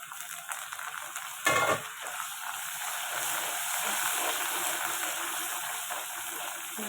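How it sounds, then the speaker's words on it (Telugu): Onions, curry leaves and coriander frying in hot oil, a steady close sizzle with a brief louder burst of crackling early on, no speech over it. "ఇవన్నీ మంచిగా ఫ్రై అవ్వాలండి"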